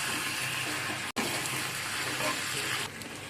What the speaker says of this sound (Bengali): এভাবে ঢাকা দিয়ে হালকা আঁচে, মিডিয়াম টু লো আঁচে চিকেনটাকে কষিয়ে নেবেন